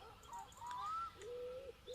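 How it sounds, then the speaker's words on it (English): Birds chirp in the game My Summer Car, a couple of clear whistled tones, one rising then a longer level note, over a quiet hum, moderately close and alone. "Alright, birds, I know you're there."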